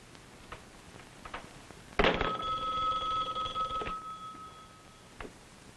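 A telephone bell rings once in a quiet room, a steady near, loud electric ring lasting about two seconds, preceded and followed by faint thumps and room noise.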